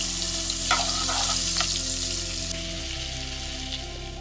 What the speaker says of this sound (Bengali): তেল গরম হয়ে গেছে, এবার দিয়ে দিচ্ছি 1 চামচ বাটার